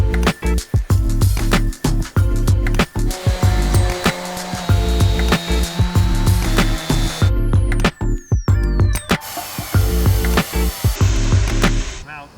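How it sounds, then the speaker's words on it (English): Power saw cutting MDF sheets into slats for a studio slat wall, giving repeated loud bursts of sawing broken by brief pauses, close and dominant, with a sharper high-pitched cut near the end. "So we are going to cut the slats now."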